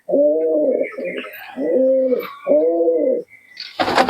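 Loud, close cooing from pigeons at a pigeon sale in Murshidabad: four drawn-out throaty coos in steady succession, followed by a brief rustle.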